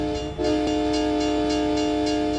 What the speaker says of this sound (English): I got stopped by the same choo-choo.